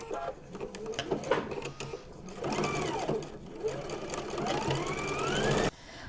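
A sewing machine stitches up both sides of a fabric piece, its fast rhythmic needle chatter running in close bursts that pause briefly, then speed into a longer whirring run before stopping abruptly.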